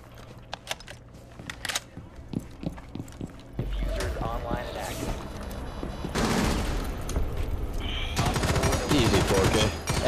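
Gunfire in the tactical shooter Rainbow Six Siege, with scattered single shots early, then denser loud bursts and rapid volleys toward the end, heard alongside players talking over voice chat.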